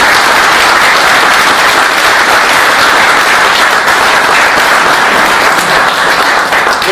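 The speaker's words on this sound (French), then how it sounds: "Nous pouvons l'applaudir." Loud, dense applause from an audience at a French political speech event fills the whole stretch, a sustained roar of many clapping hands with no letup.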